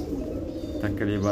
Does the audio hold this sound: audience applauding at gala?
no